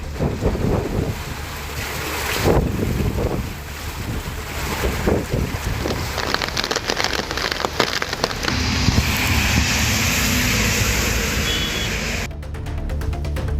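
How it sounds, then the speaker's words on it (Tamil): Heavy rain lashes down in strong wind across Tamil Nadu localities, a loud, dense roar with gusts buffeting the microphone, ending abruptly near the close. "பல்வேறு பகுதிகளில் பலத்த காற்றுடன் கனமழை பெய்தது"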